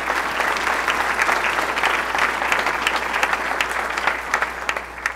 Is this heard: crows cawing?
no